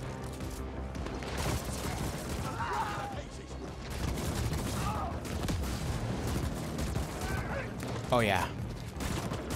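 Rapid bursts of homing-bullet gunfire in The Ascent, a steady loud barrage with impacts and a sharp whistling streak near the end, with someone briefly talking over it.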